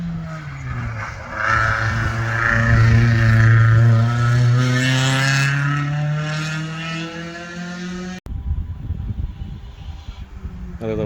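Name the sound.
four-cylinder race car accelerating at hillclimb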